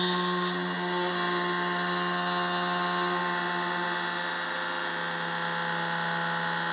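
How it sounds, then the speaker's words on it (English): A small PCB drill on a drill stand runs continuously with a steady high-pitched whine and hum, constant in loudness, with no one talking. "turn the drill on, so that should give me the light"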